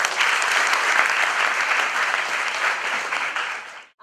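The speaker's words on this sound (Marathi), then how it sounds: "त्यासाठी जोरदार टाळ्या झाल्या." An audience at a walkathon event held by medical and dental colleges claps loudly for about four seconds in a dense, even burst of applause that cuts off abruptly.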